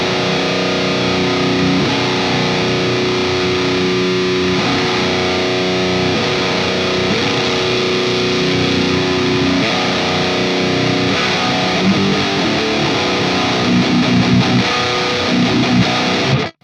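An electric guitar chugs and rings through a double-stacked Boss Metalcore ML-2 distortion pedal, a dense, heavily saturated roar of riffs and sustained notes held at constant loudness before cutting off abruptly at the end.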